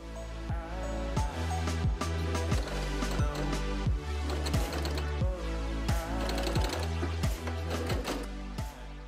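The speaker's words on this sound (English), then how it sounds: "Then top stitch along the side panel like so." A sewing machine top-stitches along the side panel of a fabric bucket hat, giving a steady mechanical hum with a quick, regular clatter of stitches that carries on throughout.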